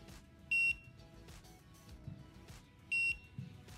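A Nut 2 Bluetooth tracker gives two short, sharp high-pitched alarm beeps about two and a half seconds apart, loud and close over a quiet room background.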